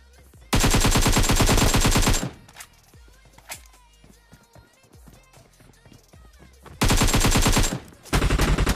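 Bursts of automatic AKM rifle fire in the PUBG Mobile battle royale game, two long loud rapid strings with a short burst at the end, scattered lighter game sounds and shots in between.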